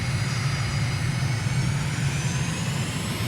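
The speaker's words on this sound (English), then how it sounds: "Let's do engine run up." A jet engine spools up steadily at full run-up power in a flight simulator, with the aircraft lined up on a runway with wheel brakes on; a loud, continuous roar with low rumble and a rising whine, no talk.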